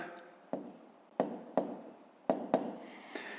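A pen scratches out answers by hand for decimal equations, with a few sharp taps and short scraping strokes spaced unevenly, close and fairly quiet, with no voices.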